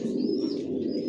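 Racer pigeons of one line coo in a low continuous rumble inside a loft, close and steady, with a faint high chirp overhead and no voices.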